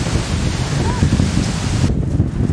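Strong Mistral wind in Avignon roars and buffets the microphone, loud and continuous, with a faint voice beneath the rumble.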